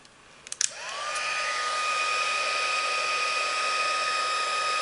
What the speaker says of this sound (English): Now I'm going to quickly heat it with my heat tool.